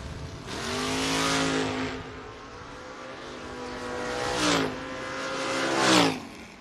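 Drag racing cars, a Valiant and a Camaro, launch from the line, their engines roaring loudly in a sustained blast, then swelling again in two later bursts, close and harsh with no talk.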